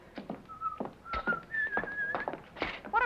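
A person whistles a short, wandering tune in clear, bright notes, close by, with brief pauses and a few breathy rustles between phrases.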